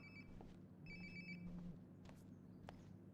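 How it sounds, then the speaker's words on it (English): A phone rings in the video game Life is Strange: Before the Storm, two short bursts of a high electronic trill, quiet and a little distant, over a soft low hum with a few faint footfalls. "Sounds like my phone is definitely nearby."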